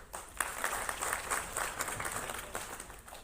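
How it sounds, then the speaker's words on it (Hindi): An audience at a rural Swachh Bharat Mission orientation workshop in Jaipur claps steadily, a dense patter of many hands lasting throughout. "तो एक बार खुद के लिए तालियां बजाइए।"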